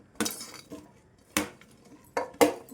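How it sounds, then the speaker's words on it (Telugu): Chopped onion pieces stirred into oil in a pan, heard as four distinct metallic clinks and scrapes of a spoon against the pan, spaced apart and close by, with no talk. "ఈ విధంగా ఉల్లిపాయ ముక్కలను వేసుకొని కొద్దిగా కలిపేసుకోండి"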